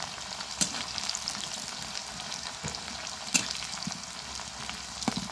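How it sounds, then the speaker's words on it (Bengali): Chopped onion and coriander leaves fry in a pan with a continuous bright sizzle, punctuated by a few sharp stirring knocks against the pan. "এখানে পেঁয়াজ দিয়ে দিচ্ছি।"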